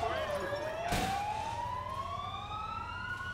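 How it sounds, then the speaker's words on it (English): A wailing ambulance siren in the video game GTA IV sweeps slowly upward, steady and fairly close, with a brief thump partway through and faint background noise. "Oh, here comes another ambulance."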